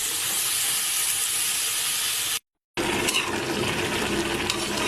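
Spinach goes into a pan beside bata fish and bottle gourd, releasing a continuous steamy hiss and sizzle that cuts out briefly, then resumes a bit louder.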